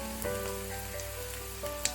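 Long thin pieces of potato fry in hot oil, giving a soft continuous sizzle with faint crackles and a few sharper pops near the end.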